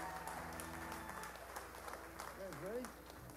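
An audience at a blues concert applauds, a moderate wash of clapping from a crowd, fairly distant and steady, with voices speaking over it.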